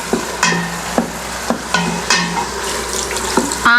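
Ginger garlic paste sizzles and fries in the pot of a Robocook electric pressure cooker, a steady close hiss broken by regular scraping knocks of a spoon stirring.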